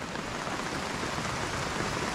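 Light rain after a mountain storm falls and drips in a soft, even patter, faint and continuous, with no voices.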